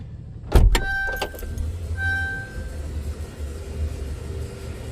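A short mechanical whir and clunk of a Mercedes V-Class power tailgate starting to open, followed by a steady low hum and rumble of the motor nearby.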